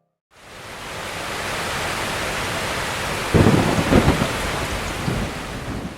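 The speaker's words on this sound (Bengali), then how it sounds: "রাতে বৃষ্টি নামলো ঝোড়ো হাওয়ার সাথে।" A heavy night rainstorm roars steadily with gusty wind, then a deep rolling thunderclap swells in partway through and rumbles on beneath the hiss of the rain.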